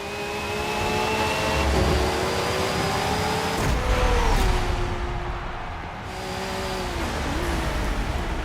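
Racing cars in the Forza Motorsport 7 video game, loud engines droning and revving with rising and falling pitch as cars pass, steady and close with no talking.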